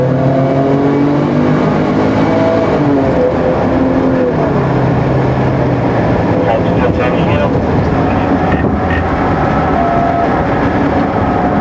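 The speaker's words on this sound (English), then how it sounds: "the driver led them on a high-speed chase" Car engine roaring steadily at speed during a police high-speed chase heading northbound, a continuous loud road and engine drone with rising and falling tones, under intermittent speech and radio chatter.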